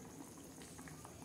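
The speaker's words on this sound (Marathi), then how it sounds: "उकळत आहे भाजी." Besan vadi vegetable curry simmering at a boil, continuous gentle bubbling with small pops, quiet and close with no talk.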